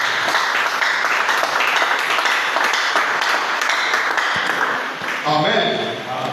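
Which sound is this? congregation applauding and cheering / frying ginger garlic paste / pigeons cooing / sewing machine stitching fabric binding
congregation applauding and cheering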